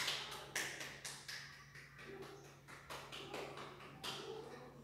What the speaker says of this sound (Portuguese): E essa palma pode ficar mais baixa.